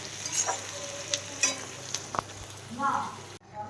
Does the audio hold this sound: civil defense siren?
no